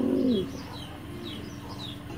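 Large racing pigeons cooing, a soft low coo at the start followed by faint chirps and murmurs from nearby birds against quiet background noise.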